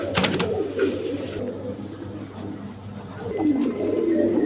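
A pair of Bondi net pigeons coo softly and repeatedly at close range, low throaty calls rising and falling over a quiet background.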